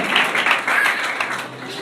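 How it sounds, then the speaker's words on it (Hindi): Loud, continuous applause from a church congregation during a Hindi-language sermon, steady dense clapping filling the space for a couple of seconds. "और जोरदार तालियां आपके लिए"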